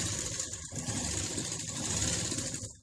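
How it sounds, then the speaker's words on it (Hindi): A sewing machine runs steadily, stitching the sleeve seams of a lined blouse at the corner where the sleeve meets the armhole, a continuous close mechanical whir with no pause. "दोनों साइड में आप इसी तरह से सिल दीजिए।"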